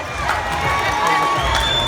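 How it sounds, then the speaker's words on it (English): Crowd noise with cheering and shouting from a large audience at a high school varsity boys basketball championship game, steady and loud throughout, with a few whoops rising above the din. "Let's give her another round of applause."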